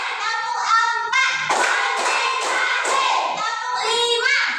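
A primary school class does a rhythmic clap pattern, with children's voices chanting loudly in unison over the claps.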